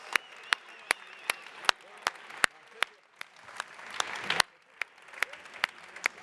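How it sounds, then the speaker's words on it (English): Audience applause at a coffee festival stage for latte art competitors: a scattered, fairly sparse run of claps with sharp individual hand strikes over a soft crowd murmur, swelling briefly near the end before thinning out. "Big round of applause for the latte art competitors."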